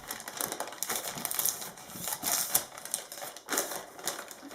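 Liner paper for a tall, skinny soap mold is cut and creased, giving quiet, rapid crisp snips and crinkles in uneven bursts, close up with no speech.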